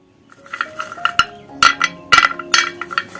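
Crispy fried monakka, a Bangladeshi puffed snack, snaps and crunches close up in a few sharp, brittle cracks against a quiet background.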